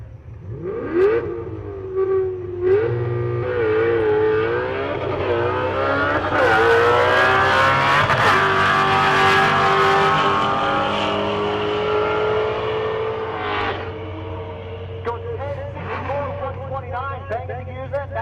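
Race car at Rocky Mountain Race Week pulling away hard after a clutch dump, engine note climbing and revving loudly through gears, then easing, with a steady drone and a voice talking over part of it.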